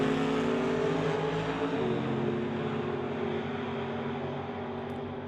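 Drag racing door-slammer cars, including a Camaro, roar down the strip at full throttle, a loud sustained engine drone that gradually fades with distance.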